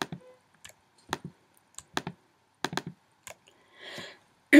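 Computer mouse clicks while working in Photoshop, a series of sharp, close, fairly quiet clicks spaced irregularly, some in quick pairs, with a brief soft rustle near the end.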